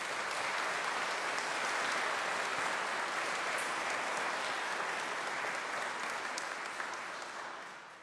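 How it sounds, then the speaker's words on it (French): A church congregation at Pentecost Mass applauds the decoration team, a continuous, even patter of many hands that holds steady before tapering off at the end. "Nous les applaudissons pour les dire merci."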